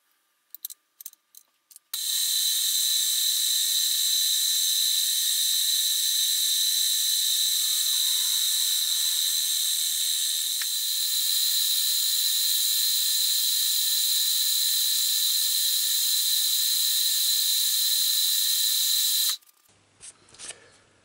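A machine runs with a steady high-pitched whine while cutting a part for a James Watt micrometer build, holding constant for about seventeen seconds between brief clicks at the start and end.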